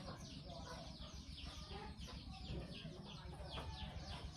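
Chickens clucking steadily outdoors, a busy overlapping stream of short calls at close to moderate distance, with some voices mixed in underneath.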